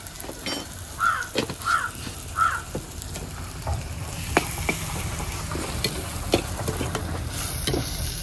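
Fish masala fries in a pan while a spoon stirs it, sizzling steadily up close with scraping strokes, and crows caw a few times in the background; no one speaks.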